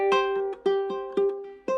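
Ukulele picking a riff at a slower pace, with a few evenly spaced plucked notes ringing over a sustained open string, close and clear with no talking.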